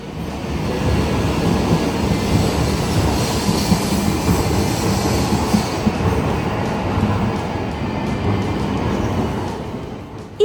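Hayabusa shinkansen bullet train, a high-speed train with a top speed of 320 km/h built to run quietly, rushing past as a loud, steady rumble of wheels and rushing air that holds for about ten seconds without any voices.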